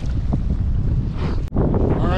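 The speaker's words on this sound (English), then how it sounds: "it's super windy right here" Strong wind buffets a kayak on choppy water, a steady loud roar of gusts and wind noise with a short dip near the middle before the rush returns.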